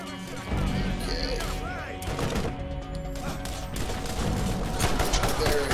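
Gunfight in Borderlands with bursts of shots and impacts ringing out over busy game noise, with a player talking intermittently between the volleys.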